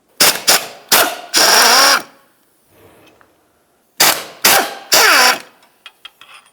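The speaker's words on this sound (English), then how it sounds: "Now we can start removing some of our mounting bolts for this." Two quick runs of sharp, ratcheting power-tool bursts, close and loud, loosen the 16mm mounting bolts on the serpentine belt tensioner of a 2007-12 Nissan Sentra, separated by a quiet pause and followed by a few light clicks.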